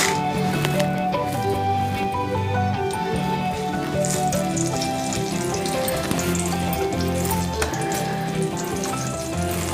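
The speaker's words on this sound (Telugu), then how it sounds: "ఇప్పుడు తాలింపు వేసేద్దాం. ఎండుమిర్చి వేస్తున్నాను." Steady crackling sizzle of dried red chillies frying in hot oil for tempering, continuous and close, with faint tonal hum underneath.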